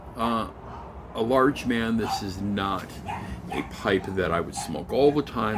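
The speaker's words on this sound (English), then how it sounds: "I apologize for my dogs in the background." Dogs bark and whimper in the background of an indoor room while someone talks steadily over them, the yips and whines rising in short bursts.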